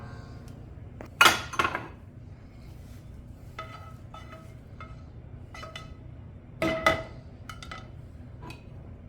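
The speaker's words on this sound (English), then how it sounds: "You just want to take your plate and push all of the eggs from the pan onto your plate." Scrambled eggs pushed from a pan onto a plate: a few sharp clinks and scrapes of pan against plate, two louder clusters and scattered faint ticks over a quiet room background.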